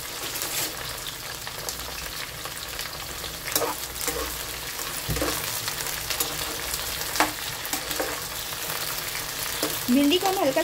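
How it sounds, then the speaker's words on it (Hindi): Cut okra (bhindi) fries lightly in a pan with a continuous sizzle and occasional stirring scrapes, close and fairly even, with a few louder bursts near the end. "भिंडी को हम फ्राई करेंगे हल्का सा"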